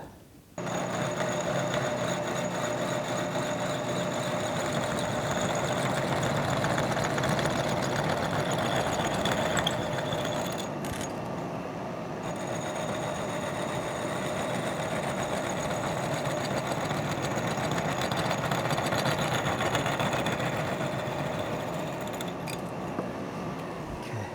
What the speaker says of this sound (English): So let's go over and set it up in the mill. Inch hole saw for the dropout.